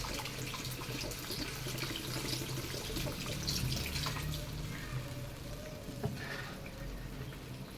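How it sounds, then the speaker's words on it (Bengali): Water pours steadily into a cooking pot over potatoes for a fish curry, a continuous soft splashing stream with a brief louder splash near the end. "আর একটু জল দিয়ে দেবো।"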